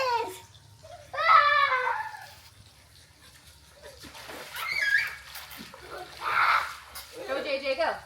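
Children play with water outdoors, with bursts of splashing and spraying that come and go in waves, mixed with kids' voices and talking nearby.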